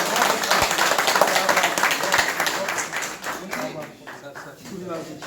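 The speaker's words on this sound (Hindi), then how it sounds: "तालियों से इस्तकबाल करें।" Applause from the audience at a political event where prominent figures join the BJP in Jammu and Kashmir, with steady clapping through most of the clip that thins toward the end, under voices and crowd noise.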